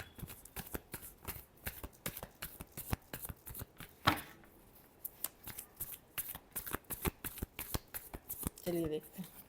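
A deck of tarot cards is shuffled by hand, giving a rapid series of crisp riffling bursts close to the microphone. A voice is faint at the end.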